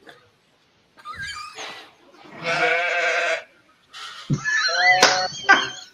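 Several bleating calls from sheep on a homestead, with tonal wavering cries arriving in bursts of one to two seconds, fairly close and loud, separated by short pauses.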